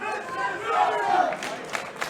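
Crowd roaring and cheering at a wrestling championship title match in Newcastle, a dense sustained swell of voices building in the middle with a few sharper shouts near the end.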